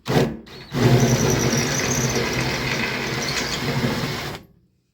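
Power drill boring out a stripped M5 screw with a 1/4-inch bit during a fuel pump replacement: one loud, close, steady high-pitched whine of about four seconds after a brief start, then stopping abruptly.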